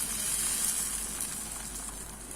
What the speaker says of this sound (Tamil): நல்லா பீட் பண்ணி வச்சிருக்கிற இந்த எக்கை வந்து கொஞ்சமாக டாப்பிங்காக கொஞ்சமாக ஊற்றிக்கிறேன்.